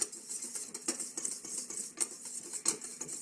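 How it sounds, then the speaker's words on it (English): Flour, baking powder and salt being whisked together in a bowl, a quick run of light metallic clinks and taps from the whisk, close and fairly quiet, with no voices. "Whisk those together just to mix them up."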